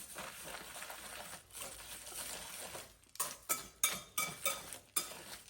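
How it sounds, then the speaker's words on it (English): Spoon stirring crispy seed gluten-free cracker dough ingredients with cornstarch in a bowl, first a soft continuous scraping, then a run of sharp, evenly spaced clinks and taps against the bowl, close and fairly quiet. "Stir to combine."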